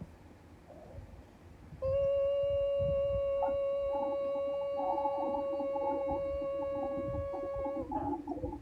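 A voice hums a single steady pitch for about six seconds, loud and close, with soft mouth noises and faint rustling in the background.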